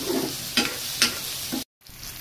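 Tomato and onion frying in oil in a home kitchen pan, a steady sizzle with a few stirring scrapes, briefly cutting out before the sizzle resumes.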